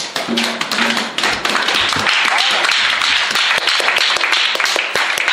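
Congregation in church applauding together, a dense, steady patter of many hands clapping close by, with voices mixed in.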